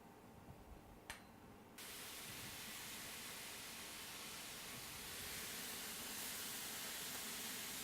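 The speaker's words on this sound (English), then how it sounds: "So I've just added my pork in here with the garlic oil and ginger" Pork hisses and sizzles in a hot pan with garlic oil and ginger, a steady broadband frying hiss that rises after a brief quieter start and holds loud and continuous, with no talking.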